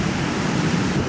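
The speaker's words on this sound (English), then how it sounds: "This is Third Beach at La Push, and it's gorgeous." Ocean surf rolling steadily onto Third Beach at La Push on the Washington coast, a continuous broadband wash of breaking waves, loud and close, with no voices.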